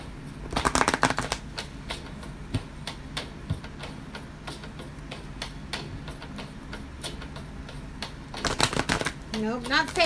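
A deck of playing cards is shuffled in rapid bursts of crisp riffling clicks, loudest at the start and end, while people talk nearby.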